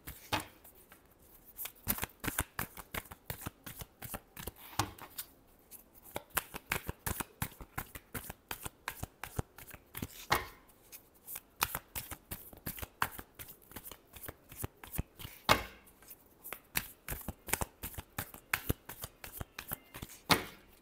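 Tarot cards are shuffled by hand in a long, close, crisp run of rapid riffling and slapping bursts that repeat steadily with brief pauses between them, with no talking.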